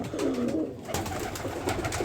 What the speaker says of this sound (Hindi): ये सारे नर कबूतर हैं।